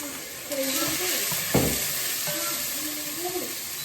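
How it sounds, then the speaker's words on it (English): A large amount of onion frying in a hot pan on an electric hob, a steady close sizzle with stirring scrapes and a brief louder clatter, while a person talks over it. "We are going to add our onion. A lot of onion."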